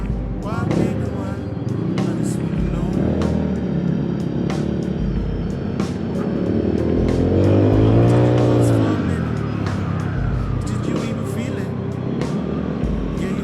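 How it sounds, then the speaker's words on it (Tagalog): A motorcycle, a Daytona fitted with a quick-throw throttle, revs and accelerates while riding, its engine droning steadily and rising to a louder pitched surge midway, with someone talking over it. "Sarap, bumibira agad yung motor ah."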